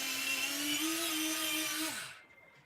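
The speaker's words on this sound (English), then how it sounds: "Oh, I think I gotta sharpen this again." A pencil is ground in a small electric sharpener, a close, faint whirring buzz lasting about two seconds that rises slightly in pitch, then stops abruptly into quiet.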